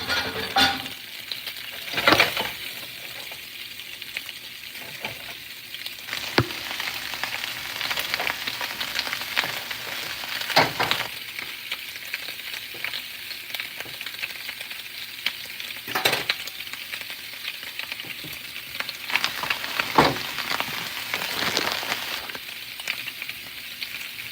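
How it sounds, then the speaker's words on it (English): Hot sausage frying in a pan with radishes, a continuous close sizzle broken every few seconds by louder scraping bursts as the food is stirred, with no voices. "we're gonna go ahead and add our hot sausage to the mix"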